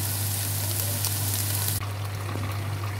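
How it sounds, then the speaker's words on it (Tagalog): Water poured into a pot of cooking chicken for mami noodle soup, a steady loud sizzle and bubbling hiss that drops slightly partway through, with a low constant hum underneath. "Pinagyan ko na po ng tubig ito. Kumukulo na."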